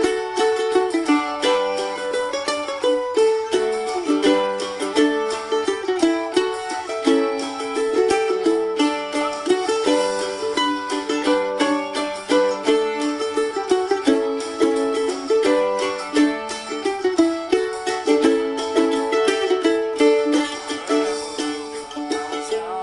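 A mandolin plays a fiddle tune, bright picked notes in a quick, steady melodic line, solo and close.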